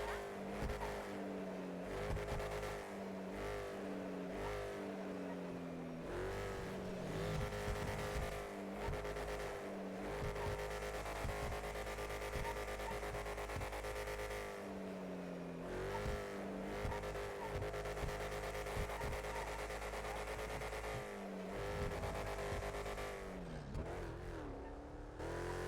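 A car drifts in the video game GTA, with sustained tire squeal over a steady engine drone, moderately loud and continuous for the whole stretch.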